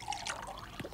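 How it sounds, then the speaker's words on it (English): Juice is poured into a drink in the Toca Boca video game, giving short cartoonish liquid trickling and pouring sounds with a few small drips, fairly faint and heard alone. "So I'm just gonna put some juice,"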